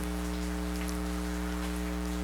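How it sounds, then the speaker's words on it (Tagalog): Steady, dense rain hisses over a constant low rumble of strong wind, a continuous wash of sound with no voices. "Lakas po ng ulan at hangin."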